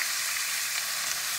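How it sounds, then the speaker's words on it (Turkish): Green beans sautéing in a hot oiled pan, a steady dense sizzle and crackle of frying that holds evenly throughout with no voices. "Birazcık bunu böyle kavuracağım"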